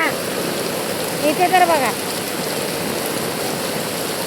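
Heavy rain in Mumbai falls as a steady, broadband hiss throughout, with a person speaking briefly over it near the middle.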